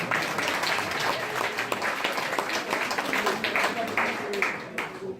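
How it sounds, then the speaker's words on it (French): Audience applause at a village New Year's greetings gathering in Lacapelle, steady dense clapping from a large room that carries on for several seconds without a break. "On peut quand même l'applaudir."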